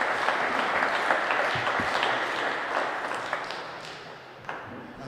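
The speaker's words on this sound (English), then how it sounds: "big round of applause for both players there in a fantastic game of hardball" Applause from spectators for both players after a game of hardball handball at the All-Ireland Hardball Championship, a dense, steady patter that gradually fades toward the end with a few louder individual claps.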